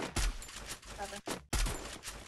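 Rapid bursts of gunfire in the battle-royale game Free Fire, loud and close, with a short pause before a second heavy volley, under faint talk.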